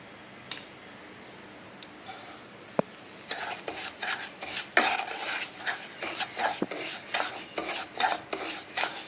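Dry granular scraping as a spoon stirs semolina roasting in ghee in a pan, quiet, starting sparse then settling into a steady rhythmic back-and-forth.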